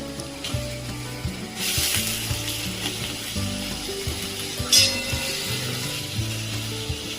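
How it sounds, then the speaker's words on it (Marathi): Corn sizzles in a pan of spicy ginger-garlic masala, a continuous close frying hiss over a low steady hum, with two sharper surges of spattering partway through. "तर ही मक्का घालून घेतलेली आहे आपण याच्यामध्ये।"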